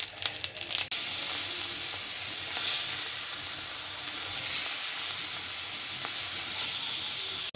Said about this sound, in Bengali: মাছ ভাজাটা শেষের দিকে